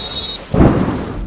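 A stormy downpour in Valsad, Gujarat: rain hisses, then a loud, deep thunderclap breaks in halfway through and keeps rumbling under the heavy rain.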